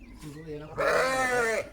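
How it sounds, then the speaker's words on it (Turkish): Sheep and lambs bleating on a village farm, a wavering bleat followed by a louder, longer cry close by, with a faint background murmur. "Şu koyun sesi, kuzu sesi."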